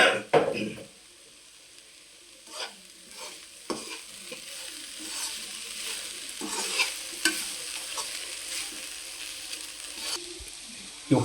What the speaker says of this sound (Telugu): కారం వేసాక ఒక రెండు నిమిషాలు ఇలా వేపుకుంటే సరిపోతుందండి